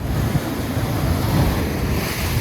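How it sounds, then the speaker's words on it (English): Rough Pacific surf off Pacific City, Oregon, pounds against a dory fishing boat heading out to sea, a loud continuous churn of waves and splashing water mixed with heavy wind buffeting the microphone. "We hit the waves, or should I say, we attacked the waves"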